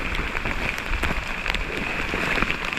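Steady morning rain falling on a trail camp with a tarp along the Appalachian Trail, a constant dense patter with occasional louder drops striking nearby, no voices.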